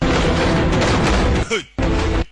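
Loud dense gunfire in a film scene, a sustained burst of shots filling the sound, a short break with a descending whoosh, then more heavy firing.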